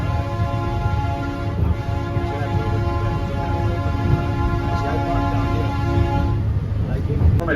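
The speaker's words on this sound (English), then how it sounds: "you'll hear the train's horn." A sustained cog railway train horn on the Mount Washington Cog Railway sounds steadily for several seconds over the rumble of the moving train nearing the summit, with a voice speaking underneath.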